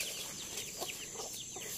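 Several hens cluck in short bursts over a steady high-pitched hum on a countryside farm, fairly close, with no talking.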